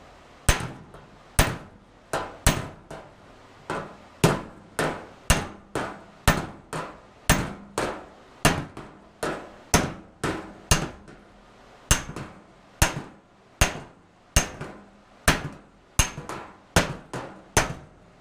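Metal body panels on a 1966 Mustang are hammered against a round block, with sharp, ringing strikes repeating at a steady rhythm of roughly one to two per second, loud and close, and no talking.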